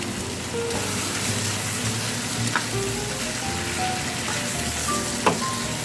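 Bora long beans stir-frying for Chinese-style fried rice: a loud, steady sizzle in a hot pan, with occasional scrapes and clinks of stirring and no talk.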